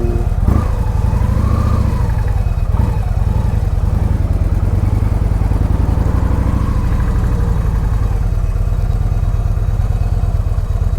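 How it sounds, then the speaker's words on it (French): A big Victory Vision touring motorcycle rumbles loud and close while riding, its engine throbbing continuously with slight revving swells throughout. "une grosse moto genre Goldwing, Indian, Victory comme celle-ci ou Electra Glide"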